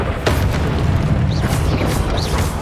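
Fiery Confringo blast spell cast in the Hogwarts Legacy video game, a dull booming burst with a short rumbling tail over steady game ambience and faint background effects.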